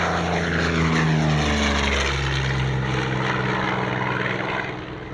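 A Curtiss P-40 warbird at an airshow drones past with a loud, steady propeller and piston-engine roar, its pitch sliding downward as it passes, then easing off slightly at the end.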